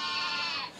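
A sheep in an animated Pixar short gives a single short, nasal bleat, close and clear, tapering off at the end.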